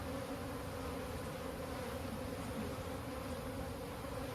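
Bees swarming around an abandoned hive box, a steady dense buzzing that stays even and continuous throughout, moderately close with no voices.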